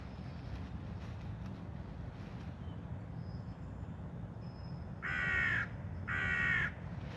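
Crows gather at feeding time over a low rumbling background, and two loud, close caws ring out in quick succession near the end.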